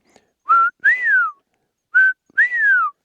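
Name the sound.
whistled imitation of bobwhite quail call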